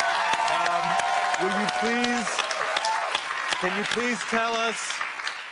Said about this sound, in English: can I have a huge round of applause for this man who's created this show?